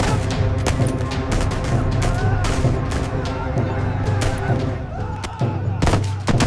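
Gunfire volleys ring out in a dramatized massacre of farmers, rapid overlapping shots crackling densely and loudly for several seconds amid clamour.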